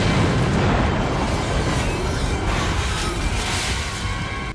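Huge cinematic nuclear blast from a low-budget action film, a sustained roaring rumble that fills the sound continuously and loudly for several seconds before starting to fade, with no voices.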